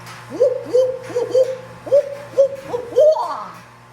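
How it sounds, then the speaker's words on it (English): A barred owl's hooting call, a series of about eight loud, close hoots in an uneven rhythm ending in a rising, drawn-out note, heard alone. "it is a barred owl, which makes the sound like this."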